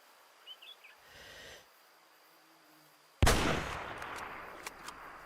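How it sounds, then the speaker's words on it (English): A single rifle gunshot in the hunting game Way of the Hunter, a sudden loud crack that rolls into a long fading echo across open countryside, with faint ambient sounds before it. "you can shoot them a kilometer away"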